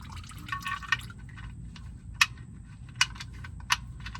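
Engine oil drains from the oil pan of a 2022 Toyota Tacoma V6 during an oil change, a soft steady liquid trickle with a few sharp drips landing close by.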